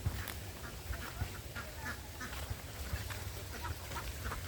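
Domestic ducks quack repeatedly while being fed, a busy cluster of nasal calls at close to mid range over a steady low background hum, with no talking.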